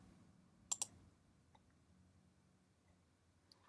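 A computer mouse clicked in quick succession, a sharp near double click followed by a few faint ticks and one more click, over quiet room hiss.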